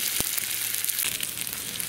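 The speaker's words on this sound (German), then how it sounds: "Das werden wir jetzt erstmal ordentlich ringsherum schön anbraten." Pork goulash sears in a Dutch oven set on a Weber kettle grill, a loud continuous sizzle and crackle with occasional stirring scrapes, close up.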